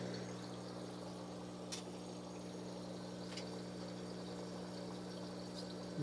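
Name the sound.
Creekstone submersible pond pump running, refilling the tank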